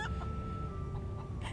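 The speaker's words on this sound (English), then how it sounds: "Hey, the chicken" A chicken clucking in short, close repeated bursts over a steady low engine-like drone, with a faint tonal hum running underneath.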